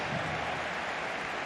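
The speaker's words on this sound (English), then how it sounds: "And the crowd show their appreciation." A large football crowd applauds at Camp Nou during a Barcelona match, a dense, steady wash of clapping and roar that holds loud and unbroken from start to finish.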